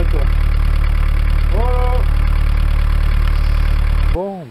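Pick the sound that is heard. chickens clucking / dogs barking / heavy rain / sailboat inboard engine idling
sailboat inboard engine idling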